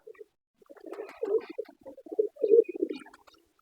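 A few pigeons in a home loft give soft, low coos in short broken phrases, close by with brief quiet gaps between them.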